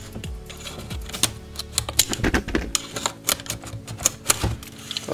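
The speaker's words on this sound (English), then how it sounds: "Well, let me just cut this." Packaging of a Bluetooth speaker being cut open, with a series of sharp close clicks, scrapes and rustling cardboard or plastic in an irregular rhythm.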